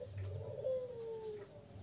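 A pigeon gives a soft, low cooing call, fairly faint against quiet background hum.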